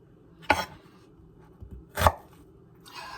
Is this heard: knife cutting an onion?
yes